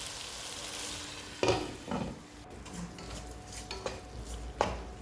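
Ridge gourd cooking in a pan with a soft, steady sizzle, close by, broken by a few sharp scrapes and clinks of a utensil stirring against the pan.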